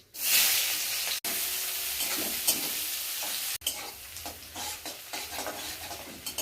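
Onion tipped into hot oil with dry red chilli and five-spice seeds, giving a loud sudden sizzle that settles into a steady close hiss with stirring scrapes.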